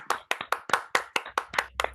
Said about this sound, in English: A round of applause for Elizabeth, please.